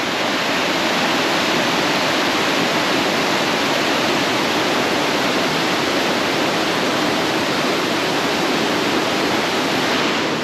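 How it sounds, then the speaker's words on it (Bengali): A waterfall in Bandarban, Bangladesh, roars as a steady, loud broadband rush of falling water, unbroken for the whole stretch with no voices over it. "ঝর্ণাটা দেখেন বন্ধুরা"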